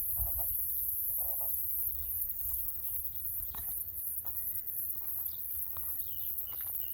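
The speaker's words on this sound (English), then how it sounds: "I can hear some frogs." Frogs croak outdoors in a garden, heard as faint, scattered calls at a distance among insect chirps and soft ambient noise.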